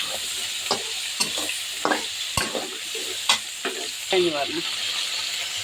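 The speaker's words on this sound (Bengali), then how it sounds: "পেঁয়াজও ভাজা হয়ে যাচ্ছে সাথে আলু ভাজা হয়ে যাচ্ছে" Potatoes and onions frying with whole garam masala, a continuous close sizzle broken by repeated scraping and clattering strokes of a spatula against the pan.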